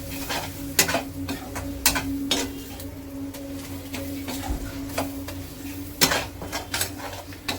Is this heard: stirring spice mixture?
yes